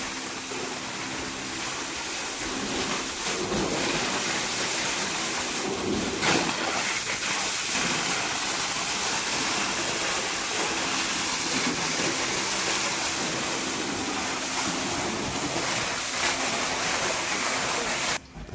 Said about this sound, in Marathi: हा आता असा पंप लावलेला आहे जो आतमध्ये सोडला आहे आणि विहिरीतल्याच पाणीतने विहिरीची जी बॉर्डर वॉल आहे ती पूर्ण साफ केली जात आहे